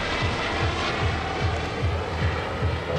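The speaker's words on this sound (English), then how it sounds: "High-speed pass by the Dolphin and the United States Coast Guard from Atlantic City." A U.S. Coast Guard Dolphin helicopter makes a high-speed pass at an air show, its rotor thumping in a steady, rapid rhythm under a loud, continuous engine roar that stays close and strong throughout.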